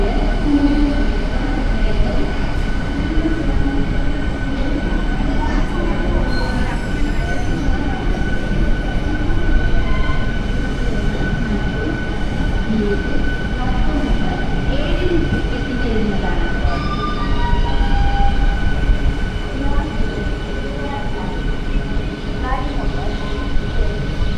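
Thiruvananthapuram Central–Kannur Jan Shatabdi train at a station, a continuous loud rumbling drone of rolling carriages with faint squeals throughout.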